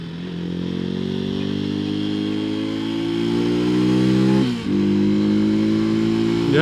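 A Janus Halcyon 250 motorcycle engine revs up steadily with rising pitch, drops briefly during a gear shift, then climbs again, loud and close.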